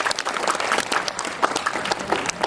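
A live audience at a WonderCon 2014 animation drawing panel claps for the event's tech person, a steady, dense patter of many hands close by, sustained throughout without voices.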